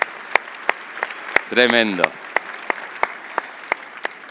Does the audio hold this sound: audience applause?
yes